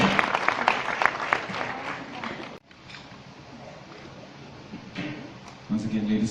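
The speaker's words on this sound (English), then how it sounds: "let's give the Executive Mayor a round of applause" Crowd applause for an executive mayor at a community development event, loud dense clapping in the opening seconds that breaks off abruptly, followed by quieter room noise and a brief renewed burst near the end.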